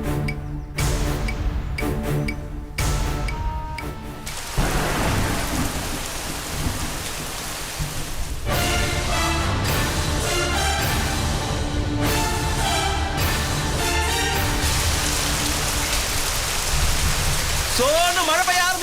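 Heavy rain pouring down during a thunderstorm, a dense loud hiss of falling water with rolling thunder rumbles, some intermittent cuts and a few background voices.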